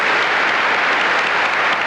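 Audience applause at a 1989 high school graduation ceremony, a loud, even wash of many hands clapping that stays constant with no voices over it.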